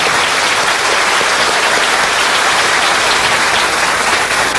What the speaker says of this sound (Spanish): Un aplauso para el artista.